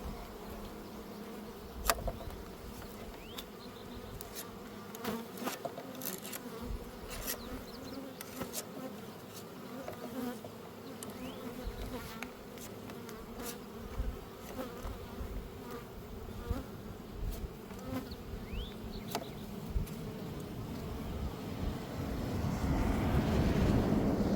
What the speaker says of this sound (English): They're really starting to swarm in front of me.